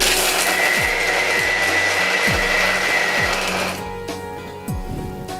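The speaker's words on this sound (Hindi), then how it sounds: "अब हम इसको बारीक पीस लेंगे" A mixer grinder grinds sugar and biscuits finely in a kitchen, a loud, steady whirring motor that slows and drops in pitch near the end, with a few clicks over it.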